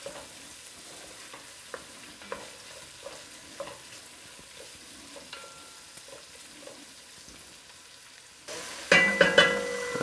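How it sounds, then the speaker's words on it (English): Lamb and chickpea curry ingredients are stirred in a pan. Faint scraping taps and a soft sizzle come first, then a louder burst of frying and clatter near the end, with no talking. "Stir them in nicely."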